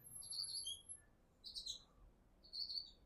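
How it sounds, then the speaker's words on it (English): Small birds chirping from inside a bush outdoors, three short bursts of high, thin tweets, faint and somewhat distant over a quiet background. "There's some birds in this bush."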